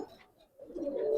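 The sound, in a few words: pigeons cooing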